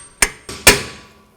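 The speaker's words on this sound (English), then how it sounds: "just hold this arm while you hammer it the rest of the way in" A control arm bolt is hammered into the rear rearward control arm of a 2007-2016 GMC Acadia: three close, sharp metallic strikes, the last one loudest and ringing out briefly.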